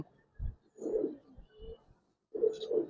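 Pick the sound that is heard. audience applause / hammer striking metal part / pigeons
pigeons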